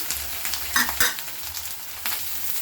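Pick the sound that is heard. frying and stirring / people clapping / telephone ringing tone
frying and stirring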